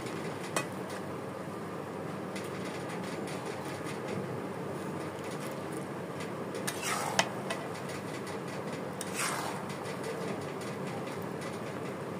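Steady frying hiss with scraping stirs from a pan of fish head muri ghonto, a continuous dense sizzle and a few louder clinks and swishes of the spoon.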